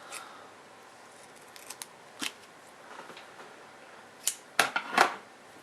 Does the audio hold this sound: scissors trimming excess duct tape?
yes